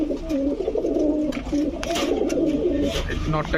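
Pigeons, including Beauty, Danish and Saharanpuri breeds at a pigeon sale, coo in low, throaty repeated rolls close by, mixed with wing flutters and background voices.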